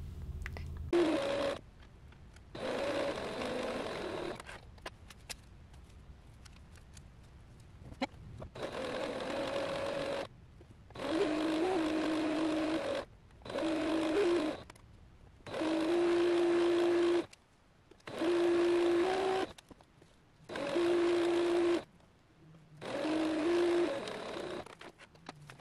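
A sewing machine stitches a skirt seam down to the hem in repeated runs of whirring, each lasting a second or two, with short pauses in between; the motor's hum sits close and steady.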